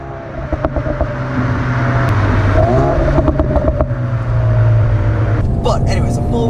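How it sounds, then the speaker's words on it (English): A Renault Megane R.S. hot hatch exhaust rumbles close by, a low steady drone with swells as the engine is blipped, plus a few clicks and clatters. "switch that off so that it's purely exhaust sound"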